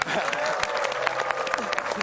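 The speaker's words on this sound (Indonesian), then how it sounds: "Kita tepuk tangan dulu." Studio audience applause on an Indonesian televised talk show before a presidential debate, a brief steady burst of crowd clapping with voices mixed in.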